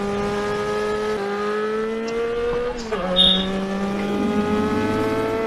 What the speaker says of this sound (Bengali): বাইক নিয়ে যাচ্ছি এখন।